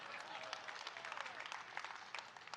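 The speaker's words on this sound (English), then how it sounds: "I don't need your sympathy applause" An audience at a live talk breaks into applause, a dense steady wash of many hands clapping that lasts the whole moment. Faint voices sit underneath the clapping.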